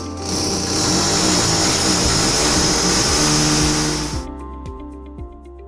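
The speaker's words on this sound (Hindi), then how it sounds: "8 mm ड्रिल बिट का उपयोग करके मार्क किए गए पॉइंट्स में सावधानी पूर्वक 2 छेद" An electric drill boring two holes with an 8 mm bit while a water purifier is installed, running as a loud, steady whine for about four seconds before it stops abruptly. A few faint knocks follow.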